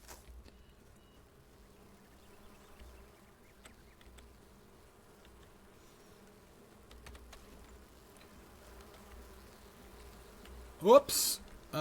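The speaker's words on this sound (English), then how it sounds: "Swarming bees, not great." Swarming bees drone in the video game Enshrouded, a faint, steady buzzing hum that continues throughout beneath quiet background sounds, with a brief louder burst near the end.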